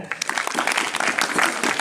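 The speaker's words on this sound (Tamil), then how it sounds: "எல்லோரும் கைத்தட்டுங்க" Audience applause at a college event, with the principal giving a vote of thanks: dense, steady clapping from a crowd, loud and close, filling the whole moment without pause.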